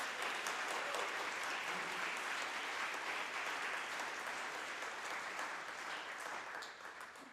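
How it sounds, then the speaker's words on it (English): A crowd applauds steadily with dense, even clapping that stays loud throughout and tapers off slightly at the close. "give another round of applause"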